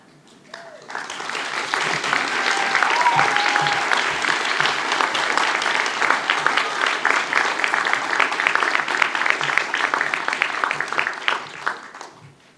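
An awards ceremony audience applauds students graduating with honors: a loud, full round of clapping that swells in within a second, holds steady and thick, then tapers off near the end.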